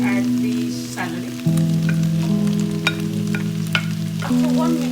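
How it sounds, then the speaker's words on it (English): Chow mein with chicken, mushroom, carrot, green beans and added celery sizzles steadily in a hot pan, with close, continuous frying crackle and intermittent stirring clatter. "After 1 minute frying, I'm going to add the celery."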